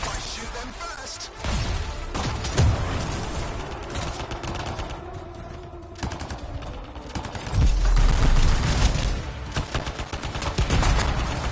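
Gunfire in the game Anthem rattles in loud, dense bursts and volleys, with heavy impacts and blasts in a chaotic battle, no talk over it.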